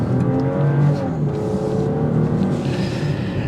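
A 2024 BMW X5 with 375 horsepower accelerates on a test drive. Its engine gives a steady, loud, close drone with no talk over it.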